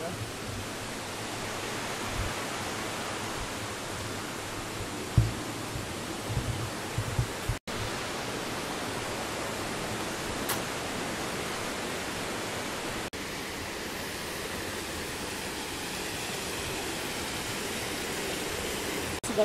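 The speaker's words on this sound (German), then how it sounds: "Und dann fließt hier noch so der wunderbare Fluss." A river runs through Sapadere Canyon near Alanya in Turkey, giving a steady, broad rushing of water that holds even throughout, with a few soft knocks and bumps close by and no talking.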